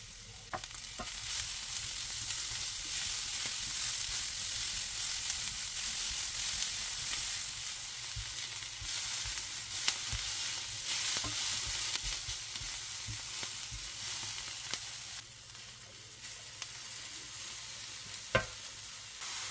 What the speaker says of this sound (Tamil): வெங்காயம் இதெல்லாம் போட்டு நல்லா வதக்கி எடுக்கணும்